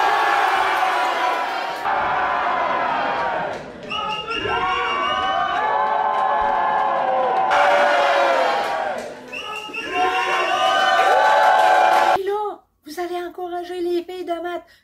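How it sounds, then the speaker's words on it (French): A crowd shouts and cheers loudly in sustained waves of excited voices, with whoops and high-pitched yells, breaking off abruptly near the end into shorter bursts of shouting. "Là, ben la foule, ouais! Puis ils crient, puis applaudissent."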